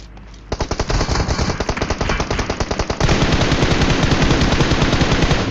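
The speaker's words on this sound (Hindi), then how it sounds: "मैंने यहाँ पर जस्ट साउंड को सुन के भाई उस तरफ फायर कर दिया" Rapid automatic gunfire in a shooter video game, a steady burst of loud close shots that shifts to a denser, harsher stream of fire partway through, with no talking.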